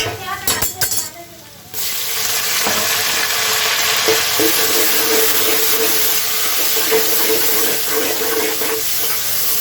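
Tomatoes fry in a pan for khichdi with a loud, steady sizzle that starts after a brief burst of clatter and stirring, then continues close and unbroken.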